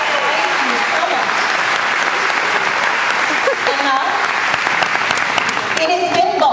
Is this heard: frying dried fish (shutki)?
no